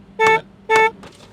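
Two short car horn honks in quick succession, close and loud, followed by a faint brief noise.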